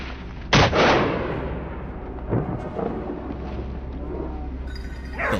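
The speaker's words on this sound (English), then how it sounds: "he pulls the trigger and gunshots ring out in rapid succession" A gunshot cracks loudly and echoes during a wild boar hunt in open farmland, followed by a fainter second report, with the booming reverberation trailing off afterward.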